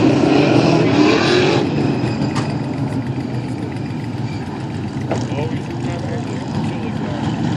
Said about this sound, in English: Today, we're going to watch a big block modified race.